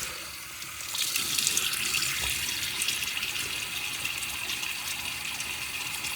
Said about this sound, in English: Let me get my face wet real quickly.